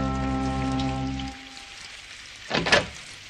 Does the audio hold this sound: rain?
yes